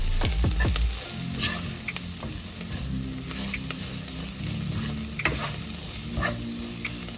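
Coriander, cumin and red chili powder stirred in a hot pan for okra with onions, a steady close sizzle with scraping spoon strokes, a heavier clatter at the start.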